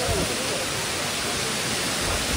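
A waterfall on the Karvati Ghat trek to Bhimashankar roars as a loud, steady wash of broadband water noise, filling the whole moment with no break.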